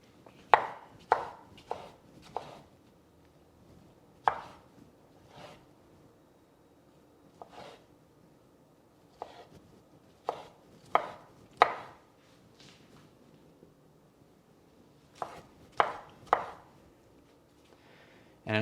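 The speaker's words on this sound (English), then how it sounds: "So I just like to quarter my tomatoes first to start chopping them up." A sharp knife chops quartered tomatoes for pico de gallo on a cutting board, giving crisp, close thuds that come in quick clusters of several strikes separated by short pauses, with no talking.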